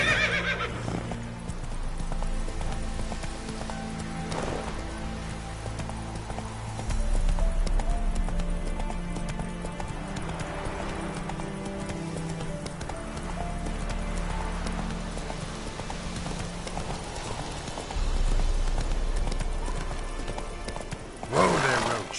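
Clip-clop hooves of the horse Roach galloping in The Witcher 3, a steady running rhythm with occasional whinnies, joined by game music and a few bits of talk.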